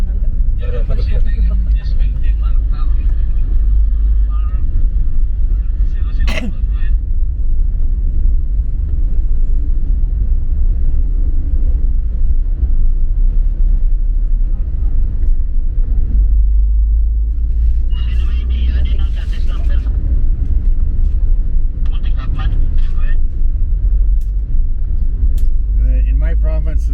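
Steady low road rumble from inside a car driving to a ferry terminal, continuous and loud throughout, with people talking over it at times.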